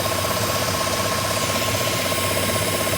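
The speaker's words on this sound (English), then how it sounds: "causing this long crank symptom during crank" A GMC Sierra engine cranks on a long crank caused by a fuel leak at the fuel pressure regulator, giving a steady, loud, continuous mechanical drone with a rattling, knocking texture and no talk.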